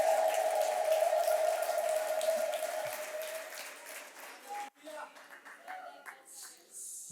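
Church congregation applauding and ululating in praise, a dense wash of clapping with a high trilling ululation on top, fading after a few seconds into quieter, scattered sounds.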